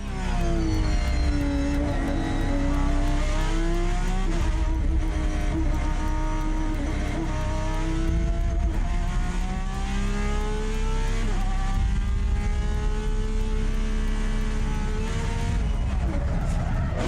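Race car engine roaring on track during an overtake, loud sustained revving with rising and falling pitch as gears change, close and continuous.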